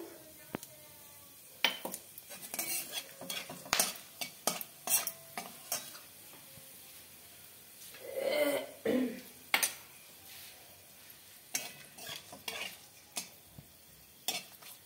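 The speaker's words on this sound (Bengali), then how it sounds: "দিয়ে দিলাম সর্ষের তেল, ফোড়নে দিলাম তেজপাতা, দিলাম শুকনো লঙ্কা, দেবো গোটা গরম মশলা" Bay leaf, dried red chilies and whole garam masala sizzle in hot mustard oil in a pan, with scattered clinks and scrapes of stirring and one louder burst of frying partway through.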